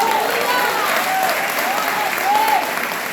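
Loud, dense applause from a church congregation at a ministry congress, filling the whole moment with steady clapping and a few voices calling out over it.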